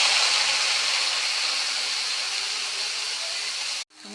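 Chopped bottle gourd hits a hot pan where a katla fish head was fried, giving a loud, steady hiss of sizzling that runs for about four seconds before cutting off abruptly.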